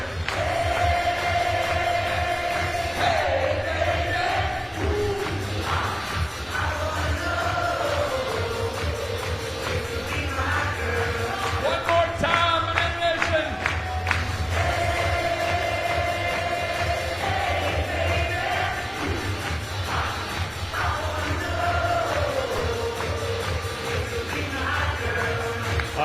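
A stadium crowd at a Banana Ball game in Mesa, Arizona sings along over loud music, a broad and steady mass of voices with a brief spoken call over a PA.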